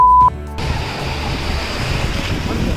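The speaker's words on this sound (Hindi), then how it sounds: "यहाँ की लहरें कुछ ज्यादा उफान मचाती हुई" Ocean surf surging at a beach in North Goa, the broad wash of waves continuous and fairly loud after a brief tone at the start, with wind buffeting the microphone.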